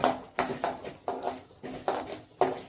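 Food sautéing in hot oil in a pan takes about six rhythmic scraping strokes at an even pace, close and moderately loud.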